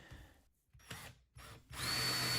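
A power drill drives a screw down through a floor into a joist. Short whirring bursts start and stop, then give way to a longer, louder run, close by.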